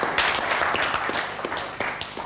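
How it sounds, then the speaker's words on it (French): Audience applause for the company KBSPRL at a public event in Kasai, a dense, steady patter of many hands clapping for about two seconds with no talk over it. "vos applaudissements pour KBSPRL"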